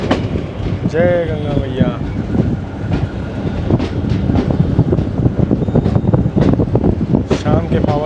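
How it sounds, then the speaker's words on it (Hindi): A Humsafar Express train passes close by, seen from a Chitrakoot Express journey: loud continuous rumble and rhythmic clickety-clack with wind buffeting, while a voice speaks briefly over it. "तो उससे पहले कोई हमसफ़र एक्सप्रेस हमें क्रॉस हो रही है"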